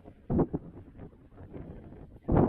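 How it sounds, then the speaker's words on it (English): Wind buffets the microphone in low, rumbling gusts, with a couple of stronger bursts, close and uneven, no voices. "Well, it's windy out here."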